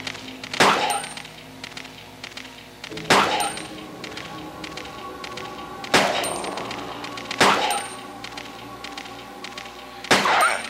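Five single loud gunshots in Resident Evil 2, evenly spaced about two seconds apart, each a sharp crack with a metallic clang and ringing tail over quiet background ambience, no talk.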